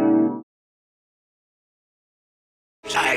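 A brief clipped sample of harp resonance gives a single short ringing tone that cuts off abruptly, followed by silence and then a short burst of another sound at the end.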